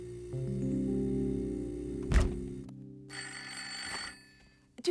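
A household telephone rings in a cartoon kitchen scene, a steady electronic tone held for a couple of seconds, then a clunk as it stops and a brighter buzzing ring segment follows, fairly loud and close.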